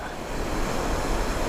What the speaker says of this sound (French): Le seul bruit, c'est le bruit de l'eau.